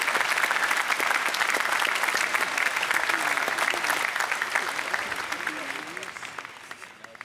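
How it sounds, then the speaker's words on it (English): Sustained applause from a large graduation ceremony crowd at UVA honoring the class of 2015, a dense steady roar of clapping that slowly fades toward the end. "I ask you to please join me in a round of applause for the entire class of 2015"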